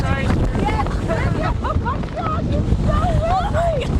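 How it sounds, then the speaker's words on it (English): Strong Tropical Storm Ophelia wind gusts roar steadily across the microphone on the coast, with a low buffeting rumble and some indistinct voices underneath throughout. "Fall made its way to the region tonight with the wind. It's a little intense."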